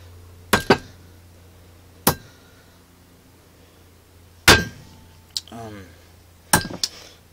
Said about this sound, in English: then you get a hammer, and then you hit it.